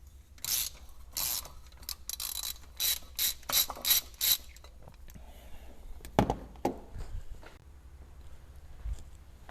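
A hand ratchet works loose the third bolt during a broken-bolt and choke coil repair, giving bursts of quick close-up clicking in the first half, then scattered softer clanks and metallic handling noises.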